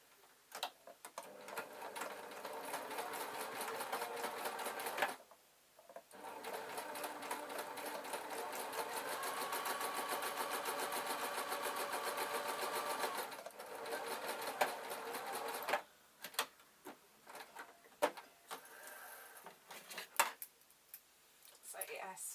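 A Gossamer sewing machine stitches a layered top in fast, steady mechanical runs of stitching, pausing briefly between seams, with short bursts and clicks toward the end.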